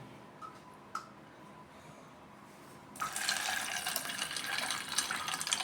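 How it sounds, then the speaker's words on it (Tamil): Water poured over soya chunks (meal maker) in a container to soak them: a few soft handling clicks in quiet, then a steady, close splashing pour that continues to the end. "நல்லா மூழ்கிற வரைக்கும் தண்ணி ஊற்றுங்க."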